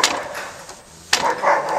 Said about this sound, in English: there's going to be a little dog barking